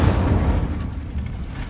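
An Incendio fire spell cast in Hogwarts Legacy bursts with a deep, booming whoosh of flame, loud and close at the start, then trails into a rumbling crackle over under two seconds.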